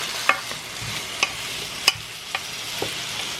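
Onions fry in a pan while being stirred, a soft continuous sizzle broken by several light scraping and tapping sounds of the utensil, close by and without speech.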